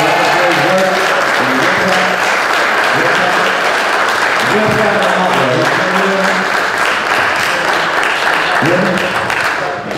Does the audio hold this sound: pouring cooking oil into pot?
no